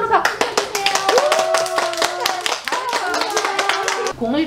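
Children in a drama-play class clap their hands in quick, uneven bursts of sharp claps, with kids' voices and chatter mixed in throughout.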